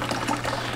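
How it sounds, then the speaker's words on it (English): Water poured out of a fish net or container, a brief soft splashing trickle heard close by without talk. "Let's get all this water out first."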